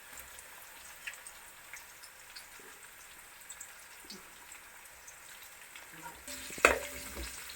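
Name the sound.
green chilies frying in a pan for lemon pickle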